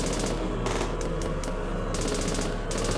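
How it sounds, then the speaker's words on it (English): Rapid, continuous gunfire from an unlimited-ammo gun in a Walmart Roblox zombie video game, loud and sustained throughout, with dense bursts stacking into a steady barrage. "this gun apparently has unlimited ammo"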